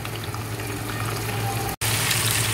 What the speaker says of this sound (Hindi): 5 मिनट तक तेज़ आंच पे फ्राई करें ताकि इसका पानी खुश्क हो जाए